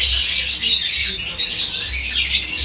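A lovebird chirps and squawks in quick, shrill, bright bursts, close and loud with a busy, chattering rhythm.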